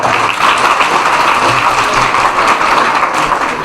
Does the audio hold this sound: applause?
yes